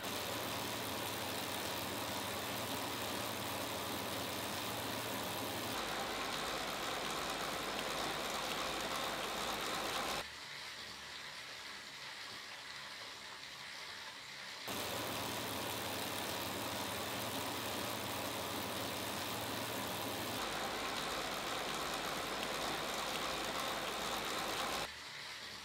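Indoor smart bike trainers (Wahoo KICKR CORE, Elite Direto X, Tacx Flux 2) run in turn, each a steady whirring flywheel hum with a rushing hiss, alternating between slightly different tones, heard alone without speech.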